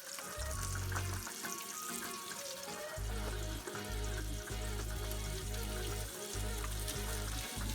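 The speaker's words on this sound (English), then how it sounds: "Now with the sausage pretty much done, you want to put in your green peppers, your onions, your mushrooms, tomatoes" Green peppers, onions and mushrooms land in a pot of frying sausage, giving a loud crackling sizzle with stirring clatter over a persistent low droning hum that cuts in and out.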